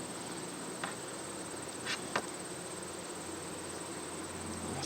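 Honey bees hum around an opened hive in late summer, a steady, faint droning buzz with a few brief clicks of handling.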